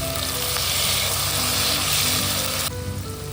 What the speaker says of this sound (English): When the oil is ready, add the chopped onions followed by the chopped tomatoes and stir well.